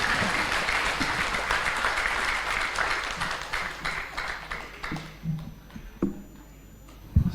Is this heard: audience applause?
yes